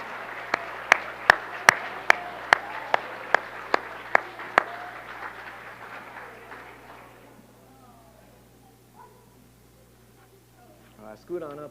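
A round of applause at a Carmel Clay Schools board meeting honoring 20 years of service: a few sharp, evenly spaced claps over a crowd's clapping, fading after several seconds into quiet room noise with faint movement.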